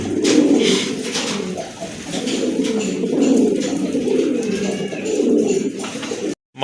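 Pigeons coo steadily and close by at a pigeon sale, repeated low rolling calls overlapping throughout, with faint background rustling.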